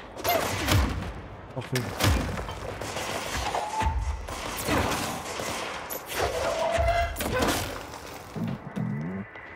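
Rapid, loud gunfire from the gun in the video game Control arrives in dense bursts mixed with crashing impacts and whooshing effects, while someone speaks briefly.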